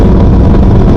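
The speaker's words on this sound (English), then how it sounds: "this Leo Bench exhaust sounds really good" A Yamaha R1 sport motorcycle fitted with a Leo Vince exhaust, a very loud, close engine roar at sustained revs, rough and full, filling the brief second without pause.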